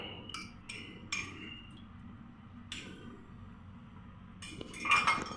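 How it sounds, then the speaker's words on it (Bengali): A metal spoon clinks against a wok in a home kitchen as three spoonfuls of cooking oil go in. There are several sharp, quiet taps and scrapes, spaced apart, in an otherwise quiet room. "কড়াইয়ের মধ্যে দিয়ে দিচ্ছি তিন চামচ তেল"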